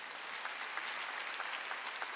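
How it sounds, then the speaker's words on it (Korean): Congregation clapping during a church worship service, sustained dense applause from a crowd with no speech over it. "박수 쳐주라고."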